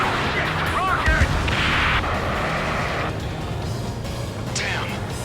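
Rocket fire and explosions from the Ace Combat 7 video game on PS5: loud booming blasts and a rushing whoosh, with shifting roars and layered battle noise throughout.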